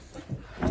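A dog whimpers softly after a fight, two or three brief faint whines in quick succession, close by and alone without talk.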